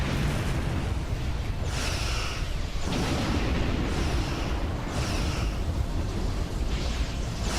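Torpedo explosions in the Star Trek Online space combat game are heard as a dense, continuous roar of booming bursts that swell and recede in waves, loud and with no talk over them.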